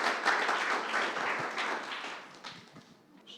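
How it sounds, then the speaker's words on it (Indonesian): Church congregation applause during a service, a lively burst of clapping that gradually thins and fades over a few seconds. "berikan tepuk tangan yang luar biasa"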